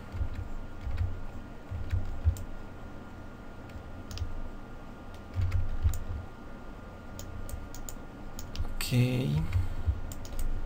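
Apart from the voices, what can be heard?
pressing keys on a computer keyboard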